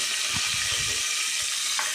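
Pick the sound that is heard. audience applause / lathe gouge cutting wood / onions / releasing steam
onions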